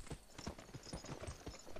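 Horse hooves clip-clopping in the western video game Gun, a quick rhythmic run of soft thuds at moderate volume with no one talking over it.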